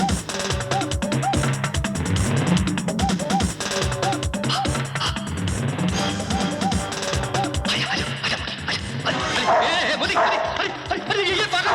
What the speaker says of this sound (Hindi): अरे ये पागल कुत्ता मोती पागल हो गया।